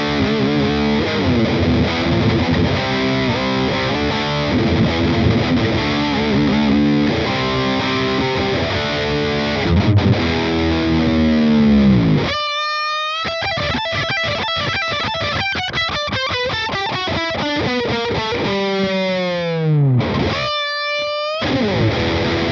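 A high-gain, heavily distorted electric guitar through a Hughes and Kettner Spirit Nano amp plays tight, chugging metal riffs and chords, with two short breaks of silence between the loud sustained phrases.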